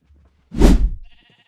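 A single loud, close sheep bleat from Minecraft, one wavering call lasting about half a second before fading into quiet.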